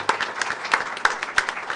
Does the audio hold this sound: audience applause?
yes